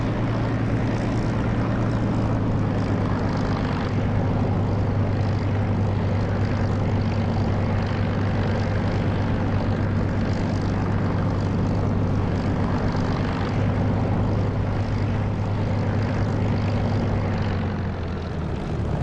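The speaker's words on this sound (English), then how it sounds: "I'm just taxiing to runway." A propeller aircraft taxis toward the runway in the DCS flight simulator, its engine drone steady and loud throughout with a constant low hum and no voices.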